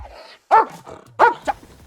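A dog barks during dog sport training: two sharp, loud barks and a shorter third, close by, with a low growl between them.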